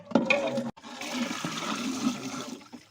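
Water gushes and splashes steadily into a cooking pot for vegetable biryani after a brief clink, a continuous rushing pour lasting a few seconds.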